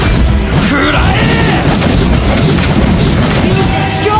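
A turret being destroyed in the mobile game Mobile Legends sets off a loud, dense boom that rumbles continuously through the whole stretch, with battle effects and an announcer-style voice mixed in.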